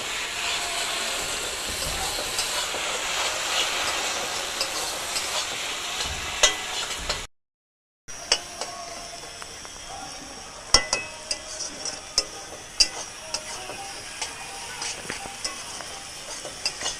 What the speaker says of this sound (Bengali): এর মধ্যে দিয়ে দিচ্ছি আদা ঘষা আর কাঁচা লঙ্কা চেরা।